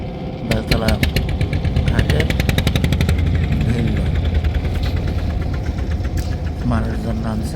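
Trawler boat engine arriving at a ferry ghat on a river near Barishal, a steady loud chugging drone with rapid knocking pulses throughout, joined by water and background voices.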